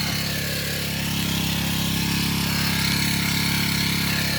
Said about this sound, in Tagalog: Tinesting ko lang itong ating grass cutter kung gumagana pa.